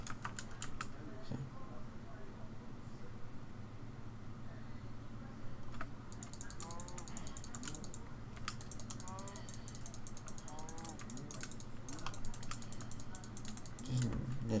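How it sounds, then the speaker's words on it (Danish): Computer keyboard typing during a Minecraft gaming session: bursts of quick, close key clicks come and go over steady game sounds and a low background hum, with some gaps between the bursts of clatter. "I må undskylde, hvis I kan høre med tastatur"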